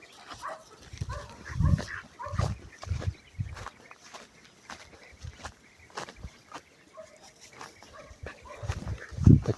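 A dog barks outdoors in village countryside, with several scattered barks at moderate distance over rustling and footsteps and a louder bark at the end.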